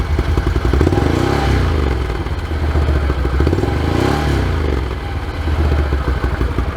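A Can-Am Renegade XMR 1000R ATV fitted with an SLG Sniper exhaust, revved close up, rising and falling twice in long throaty pulls with a burbling, crackling idle between them.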